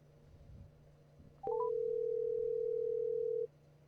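A steady telephone dial tone sounds for about two seconds while a call is being placed, following a few short beeps, loud and clear over a quiet background hum with no talking.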